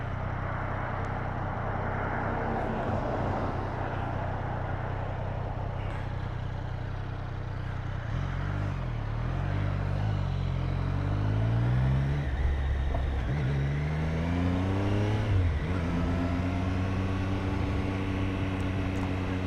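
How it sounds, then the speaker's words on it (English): Several vehicles pass nearby one after another, engine and tire noise rising and falling in steady traffic, with low rumbling between passes. "wait for all these cars to go."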